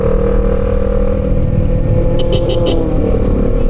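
A Kawasaki Versys 650 motorcycle cruising fast along the Kaybiang Loop road, its engine holding a loud, steady drone mixed with rushing wind throughout.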